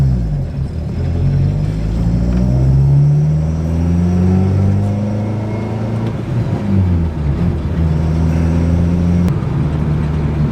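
Turbocharged Mitsubishi 4G64 four-cylinder car engine on a highway during a wide-open-throttle pull, a loud, continuous droning roar that climbs and drops in pitch as it revs through the gears, heard from inside the car.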